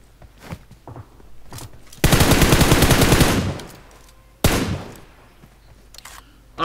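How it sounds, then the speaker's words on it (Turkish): Automatic gunfire from PUBG Mobile on the Karakin map: a loud sustained burst of rapid shots runs for about a second, then a second shorter volley follows after a pause, with faint scattered thuds around them. "Şuradan adamlar sıkıyor."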